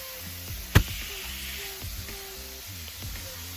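Chopped-cheese filling caramelizes in a hot pan with a steady, close sizzle, broken by one sharp clatter near the start and light scraping stirs throughout.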